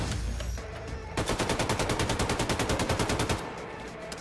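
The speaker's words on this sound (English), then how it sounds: "Dude shot his friend." Rapid automatic gunfire in Wolfenstein II: The Freedom Chronicles erupts after a brief lull, a loud, dense burst of evenly spaced shots that hammers on for about two seconds before stopping abruptly.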